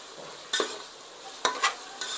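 Onions and egg rice roast in a hot pan with a soft continuous sizzle, punctuated by several sharp scraping stirs of a spatula at irregular intervals.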